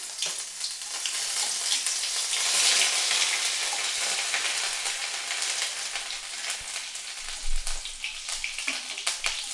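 Grated ginger sizzles steadily in hot oil while the filling for moong dal kachori is cooked. The frying hiss is close and continuous, with a few soft stirring clicks near the end and no talking.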